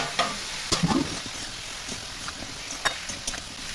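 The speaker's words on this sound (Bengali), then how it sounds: "এবার ঢাকাটা খুলে আমি একটু নাড়াচাড়া করে দেব" Vegetables for shukto being stirred in a pan once the lid comes off, a soft continuous sizzle under a few distinct scraping and clinking spoon strokes, fairly quiet and close.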